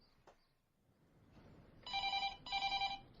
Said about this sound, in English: You've reached the answer phone of Agatha Raisin. Please leave a message